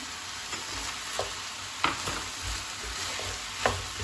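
Minced meat with red and green peppers sautéing in a pan, giving a steady close sizzle with a few soft scrapes of stirring spread across it and no voices.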